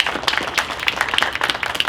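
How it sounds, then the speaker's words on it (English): Scattered audience applause at a poetry celebration event, a short burst of fairly light, uneven claps at moderate distance. "maybe clap loud enough that she could hear it"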